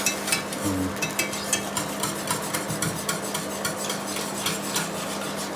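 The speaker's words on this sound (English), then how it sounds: "Whisk, whisk, whisk. Whisking all the time." A whisk stirring parsley sauce in a pot to work out lumps, rapid rhythmic scraping and clinking against the pan, steady and close, with a faint hum underneath.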